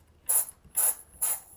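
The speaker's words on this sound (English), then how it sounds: "Just turning the knob counterclockwise self-bleeds." A bleeder knob on a commercial compressed-air fill system is turned to vent pressure, giving three short bursts of hissing air release, close and evenly spaced, each about a fifth of a second, with silence between.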